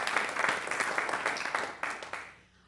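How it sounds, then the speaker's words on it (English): Applause rises from the audience at a Columbia Heights school board meeting honoring Bruce Kelsenberg, with brisk clapping from a modest crowd that thins out and fades to quiet near the end. "How about a round of applause for Bruce Kelsenberg?"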